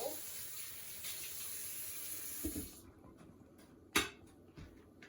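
Tap water runs steadily into a kitchen sink while food is rinsed, then cuts off, leaving a few sharp clinks and knocks of utensils or containers, close and fairly quiet, no speech.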